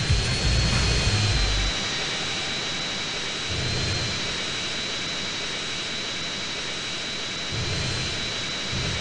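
Steady jet aircraft engine roar from GTA San Andreas, a continuous broadband whine with a faint high tone, with low rumbling swells surfacing every few seconds; no voices.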